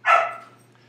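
A little puppy gives one short, sharp bark nearby in a quiet room, followed by silence.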